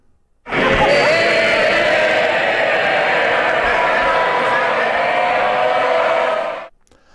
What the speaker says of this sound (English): Let's compare that with the general sound of the House of Commons.